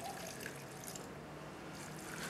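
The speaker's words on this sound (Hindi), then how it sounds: "इसके अंदर डालें थोड़ा सा पानी," Water is poured into a pot with onions to start the broth for an aloo chicken curry: a steady, quiet splashing stream lasting a couple of seconds, with no talking.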